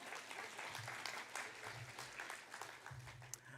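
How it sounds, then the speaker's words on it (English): Applause from an audience at a youth work awards ceremony, a soft, even wash of clapping heard at a distance in a large room, with a low murmur beneath it. "So a big round of applause to yourselves for looking so great."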